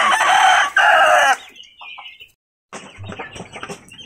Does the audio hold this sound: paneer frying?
no